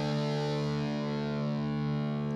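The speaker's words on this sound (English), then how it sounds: "The next channel is called metal, and let's see how it will sound." A heavily distorted electric guitar through the metal channel of a Nux Mighty BT40 modeling amp, holding a sustained, buzzing chord, thick and saturated, ringing steadily without a break.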